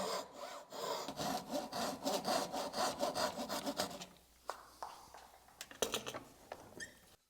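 A hand saw cuts wood down to a dovetail shoulder line on a waterfall bench, quick rhythmic rasping strokes close by for about four seconds, then a few scattered knocks and scrapes.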